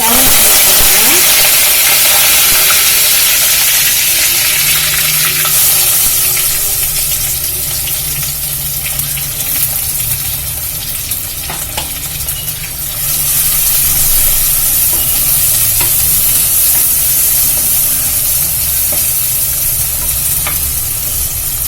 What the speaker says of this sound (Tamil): வெங்காயம் வதங்கட்டும்ப்பா